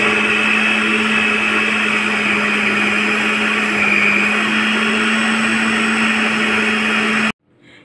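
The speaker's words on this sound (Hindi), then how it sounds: "अब इस सारे अमेज़े को ब्लेंडर में अच्छी से पीस लेना है।" A kitchen blender runs steadily and loudly for about seven seconds while grinding ginger and chillies for shami kebab mixture, then cuts off abruptly, with no talk.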